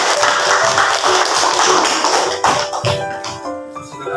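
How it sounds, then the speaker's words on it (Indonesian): A classroom of students claps for a presentation group in a dense, loud round of applause that starts strong and gradually thins out and fades toward the end, with a tonal hum underneath. "beri tepuk tangan kepada kelompok Bacillus"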